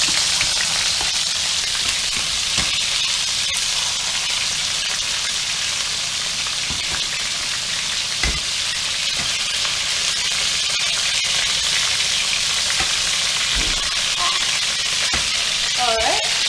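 Meat searing on medium heat in a hot pan, a loud continuous close sizzle with occasional sharp clicks and taps of a utensil against the pan, no talking.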